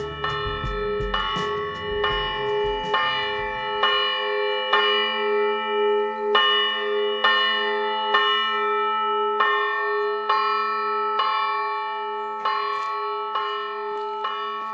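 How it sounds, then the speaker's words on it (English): Church bells ring out in Meteora, Greece, with steady, evenly spaced strikes for about fifteen seconds. Each clear tone rings on into the next, and low rumbling noise fades away in the first few seconds. "with the bells ringing"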